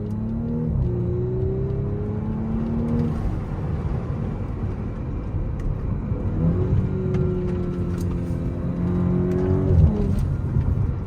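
A car pulling hard in dynamic sport mode with an automatic gearbox, heard from inside the cabin: engine and exhaust drone rising in pitch through gears, with steady road rumble underneath and no talking.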